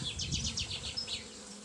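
Honeybees buzz around an open hive during spring apiary maintenance, a close, steady drone with wingbeat whines rising and falling in quick overlapping swells, with no voices.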